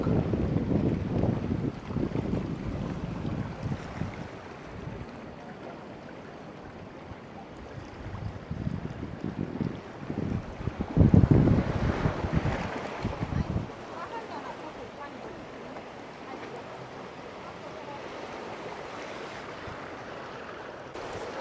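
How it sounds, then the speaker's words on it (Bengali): Sea waves crash against the rocks at Canal Rocks, Western Australia, in repeated surging washes with a louder burst midway, under heavy wind buffeting on the microphone and some voices. "ঢেউগুলো আসছে পড়তেছে এবং বাড়ি খেতেছে"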